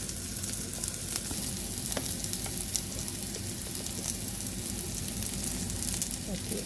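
Pieces of elephant yam fry in an oil-filled pan, a dense close crackling sizzle with light stirring clicks running steadily throughout.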